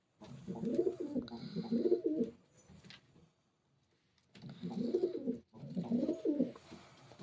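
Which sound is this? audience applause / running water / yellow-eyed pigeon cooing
yellow-eyed pigeon cooing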